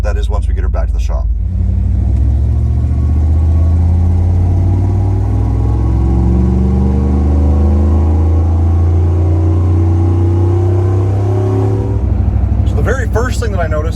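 A deep, loud exhaust from a 1995 Ford F150 pickup engine rumbles and drones steadily, with brief talking at the start and end.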